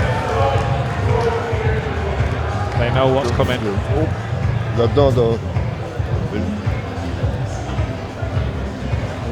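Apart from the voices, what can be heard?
boxing crowd getting vocal before the decision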